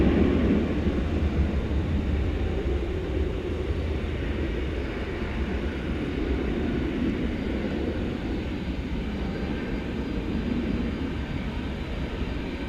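An American Airlines Boeing 737-800 departs DFW at night, bound for San Antonio, its steady jet roar holding at a distant, even level with no voices.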